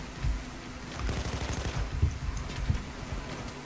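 Rapid gunfire in the PayDay 2 heist game, a loose stream of close shots with heavier cracks standing out, continuing for several seconds without talk.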